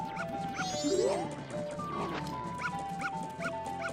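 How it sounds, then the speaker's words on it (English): Dog barking in the Zelda: Majora's Mask video game, repeated short barks over game music and chiming tones, with a brief sliding effect near the start, all at moderate, even loudness. "This dog hates us too for whatever reason."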